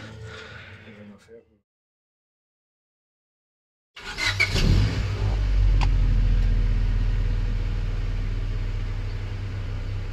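Car engine started and left running after a timing belt and valve adjustment, a loud steady idle that kicks in after a few seconds of silence and holds evenly to the end.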